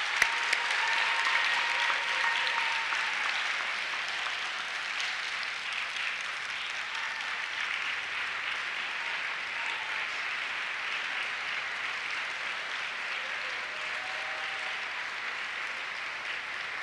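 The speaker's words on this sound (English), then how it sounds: "I'd like the graduates, please, to celebrate by clapping for their parents." Medical school graduates at a University of Iowa commencement clap for their parents. The applause is loud, sustained and even, and fills a large hall for the whole stretch.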